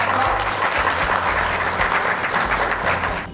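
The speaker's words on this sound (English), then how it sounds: "So should we give ourselves some applause?" Participants at a research methodology workshop on the BIMTECH Bhubaneswar campus applaud, a full, loud roomful of clapping that stays steady before tapering slightly at the very end.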